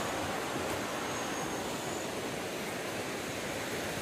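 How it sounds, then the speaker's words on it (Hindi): Swollen river after rain rushing hard near the Manmao–Tengman border trail, a loud, steady broadband roar with no letup, close by and alone without voices. "पानी कितना करंट से आ रहा है"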